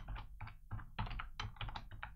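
Close, quiet keystrokes on a computer keyboard while AutoHotkey code is typed, quick irregular bursts of clicky taps with short pauses, no talking.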